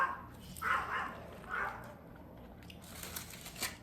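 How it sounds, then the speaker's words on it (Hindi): Dogs fighting and barking outdoors, heard at some distance as bursts of barks and growling yelps rising and falling in several waves, fairly clear with no talk over them. "बाहर कुत्तों की लड़ाई हो रही है"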